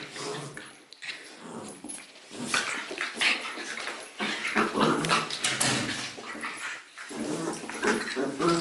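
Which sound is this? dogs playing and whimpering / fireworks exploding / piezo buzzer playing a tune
dogs playing and whimpering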